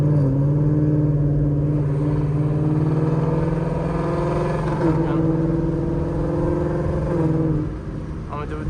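A car with an automatic gearbox and paddle shifters drones at steady engine revs through downshifts, a loud continuous hum with a small change in pitch near the end.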